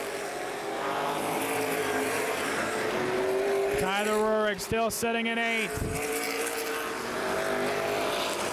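Race cars thundering around New Paris Speedway in a 100-lap summer feature, engines droning steadily with a loud close pass sweeping by midway, under continuous race commentary.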